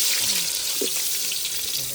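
Oil is poured into a pan for frying beef, giving a steady close sizzle and watery hiss across the whole short moment, with no pause.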